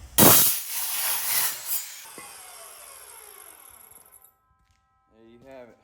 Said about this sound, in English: Throw her down in the chop saw.